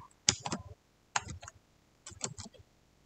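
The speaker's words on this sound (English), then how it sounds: "just typing" Quiet typing on a computer keyboard while coding in Python, three short clusters of soft key clicks separated by brief pauses.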